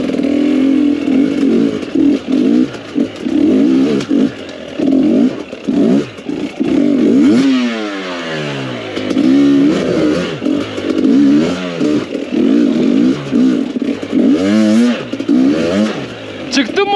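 A motorcycle revs hard while climbing a rough mountain track, its engine surging and falling in repeated bursts with rising pitch sweeps, close by, as people talk and shout over it.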